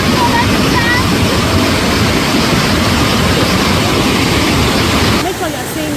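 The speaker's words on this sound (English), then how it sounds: "that's the kpatawee waterfall people" Kpatawee waterfall in Liberia roars as a loud, continuous broadband rush of falling water, steady throughout and close by.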